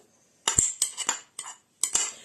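A spoon stirring okroshka ingredients, radish and green onion, in a bowl: a handful of quick metallic scrapes and clinks in short uneven strokes, close and clear, with no talk.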